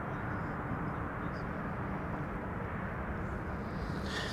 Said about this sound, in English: Now, an Embraer 190 arriving from Leeds is approaching behind me.